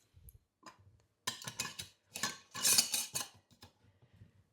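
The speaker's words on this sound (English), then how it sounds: "Put the lid on." A lid set onto a pot of homemade lamb stock gives a handful of close metallic clinks and clattering knocks in short bursts, with no talking.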